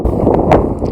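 Wind gusts across the microphone on a Cairngorms mountain hike up Bynack More, a loud, close, low rumbling buffet that swells briefly near the middle.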